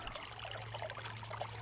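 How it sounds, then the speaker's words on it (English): Water trickling and burbling steadily along a small seasonal creek in a backyard, a soft continuous flow heard at moderate distance with no voices. "It's just a seasonal creek that I have in the backyard."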